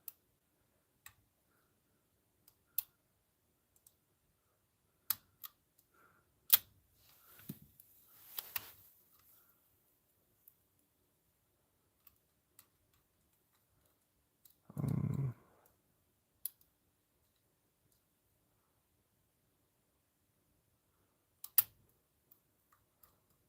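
Serrated pins in a lock being picked give sparse, faint clicks and ticks spread across the span, with one duller, heavier knock partway through and long quiet gaps between.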